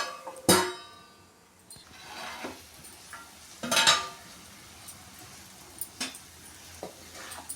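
A lid clanks onto a pot of simmering spicy chickpea curry, with two bright metallic clatters a few seconds apart amid faint kitchen stirring and clinks.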